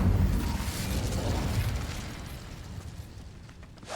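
A loud, crackling fiery burst from the Incendio fire spell in Hogwarts Legacy bursts out at the start, then rumbles and fades over a few seconds with no talk.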